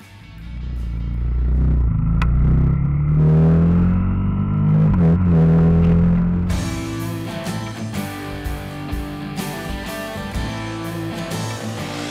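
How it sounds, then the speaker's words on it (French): A KTM Duke 390 single-cylinder motorcycle on a test ride, its engine rising and falling in pitch as it revs and shifts, loud and close, before music takes over the latter half. "Deuxième essai de roue de l'émission avec la KTM Duke 390."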